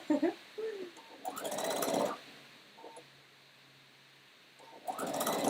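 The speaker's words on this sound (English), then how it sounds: "So now I can just sew my Sherpa hat." A sewing machine stitches a Sherpa hat in two short whirring runs, separated by a quiet pause, with a person speaking before the first run.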